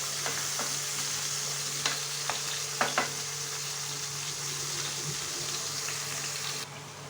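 Tomatoes fry with bitter gourd in a pan, giving a steady close sizzle broken by a few sharp clicks of a utensil stirring against the pan.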